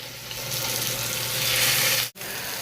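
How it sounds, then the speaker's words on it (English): Loud, continuous sizzling of pork frying in a hot pan, a dense crackling hiss with a brief break near the end. "what we want to hear is a nice sizzle when the pork hits the pan"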